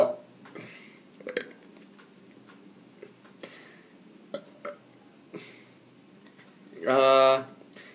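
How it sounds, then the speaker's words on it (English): One loud burp near the end follows a drink of Power Horse energy drink, after scattered faint clicks and ticks in a quiet room. "Makes you burp."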